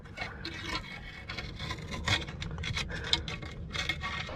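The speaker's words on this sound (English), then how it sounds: "I want to tease him out with the hook." A metal hook scrapes and rubs along a rocky ledge at extreme low tide while coaxing out a lobster, giving steady gritty scratching with occasional sharper knocks and wet background noise.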